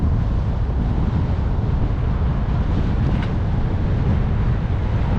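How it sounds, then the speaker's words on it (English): Steady wind buffeting a microphone during a headwind bike ride, a loud continuous low roar with no other sounds standing out. "Wind's starting to pick up a bit."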